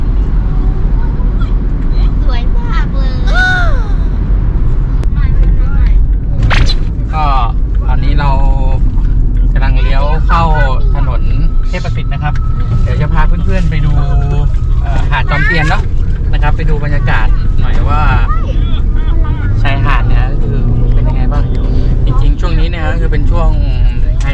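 A car drives through Pattaya and into a tunnel, its steady road and engine rumble running throughout beneath near-continuous talking, with a few brief higher tones overhead.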